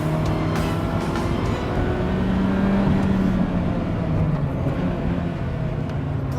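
A 1989 Ferrari F40 engine surges under hard acceleration, a loud, close, continuous roar with a rising tone partway through and no talk over it.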